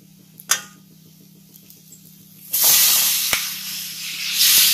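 Tomatoes dropped into a hot pan of oil and spices for Tamil egg curry, a loud sudden hiss of sizzling that swells and holds, with a few sharp clatters near the start.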